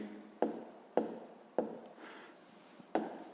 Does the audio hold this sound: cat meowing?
no